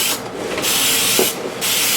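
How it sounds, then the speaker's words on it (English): Two hissing bursts of cooking spray onto the sides of a pan, each lasting a fraction of a second, close by with no talking. "just do a little more spraying on the sides"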